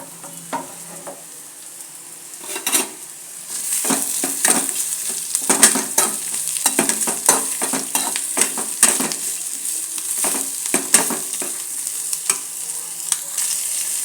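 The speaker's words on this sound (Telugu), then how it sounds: "కాకరకాయల తాలింపు చేస్తున్నాను." Bitter gourd tempering sizzles steadily in a hot pan while a spoon stirs it, producing repeated scraping strokes and clinks over the constant frying hiss. No voices are heard.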